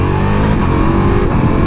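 A 2024 Ducati Multistrada V4S, a 170 hp V4 motorcycle, pulls hard under acceleration, its engine roaring loud and close as a dense, continuous growl that holds steady throughout with no talk over it.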